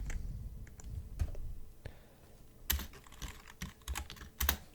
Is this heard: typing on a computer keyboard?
yes